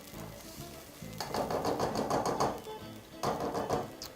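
Rice being stirred with a utensil in a pot of water while cooking chicken fried rice, with two bursts of swishing, scraping strokes against the pot and a quieter pause between them.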